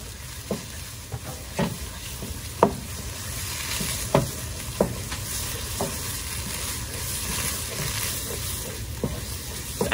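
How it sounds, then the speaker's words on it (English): Tomato paste fries in a non-stick pan with a steady sizzle, while a utensil stirs and taps against the pan in scattered sharp knocks, close up and without speech. "the purpose of frying tomato paste is to get that can taste out of it"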